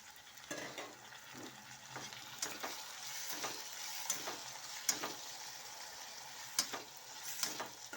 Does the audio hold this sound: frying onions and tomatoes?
yes